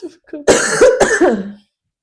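Two short, harsh coughs close by, the second following quickly after the first, with a bit of breathy voice around them.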